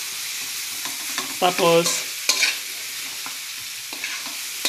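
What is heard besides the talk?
frying and stirring potatoes in a pan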